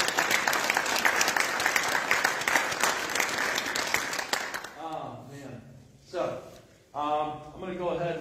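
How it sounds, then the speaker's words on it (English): Audience applause at a high school hockey banquet, a dense, steady clapping for the team that lasts about four and a half seconds, then stops as a speaker begins talking. "you guys should give these guys a round of applause."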